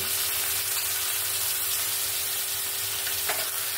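Tomatoes land in a pan of fried ginger and garlic for tomato rice, producing a steady, close sizzle that crackles evenly throughout with a light clink near the end.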